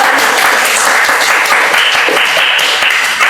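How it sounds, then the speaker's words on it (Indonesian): Audience applause at an Indonesian library-science talk show, a dense, steady roar of many hands clapping, loud and continuous without a break. "Tepuk tangannya"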